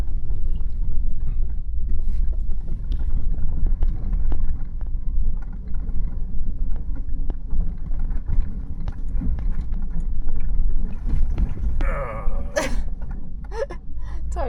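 Continuous low rumble of a car driving over a rough road near the Bridger Wilderness in Wyoming, bumping and rattling steadily throughout with some clattering from inside the cabin.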